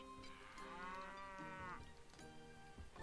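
Cattle in the castle-building strategy game Stronghold HD let out a long, loud, drawn-out moo that fills most of the moment, followed by a shorter second low call, with no talk over them.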